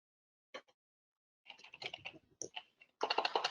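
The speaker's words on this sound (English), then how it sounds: "I'm hearing some typing." Keyboard typing on a computer: a short burst of keystrokes, a pause, then a longer uneven run of clicks and a dense fast flurry at the end, close and clear with no voices.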